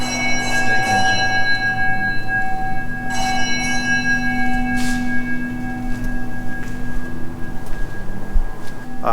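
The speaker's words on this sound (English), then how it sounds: "I believe the bell is dinged every time the thing's due to be wound up from the mine" A mine winding bell at steam engine ruins rings out loud and near, several struck dings with long, ringing metallic tones that overlap and decay, over faint background noise.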